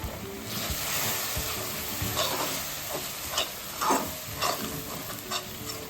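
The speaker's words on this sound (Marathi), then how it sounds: "विनेगर आणि आता छानपैकी मिक्स करून घ्यायचं." A spoon stirs soy sauce and vinegar together in a pan over low heat, making a soft, continuous sizzle with faint scraping strokes and occasional light clicks, fairly quiet and with no talking.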